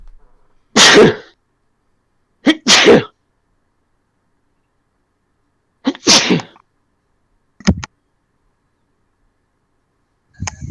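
Several sneezes, close and loud, separated by silence: two bursts early on, another in the middle, then a couple of shorter, sharper ones.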